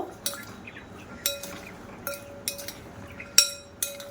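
A spoon mixing potatoes with tamarind chutney in a bowl for papri chaat, giving a series of light clinks and scrapes against the bowl at irregular intervals, close and quiet.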